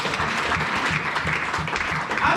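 A church congregation applauding during a sermon, dense sustained clapping from many hands filling the room, loud and even throughout with no clear voices.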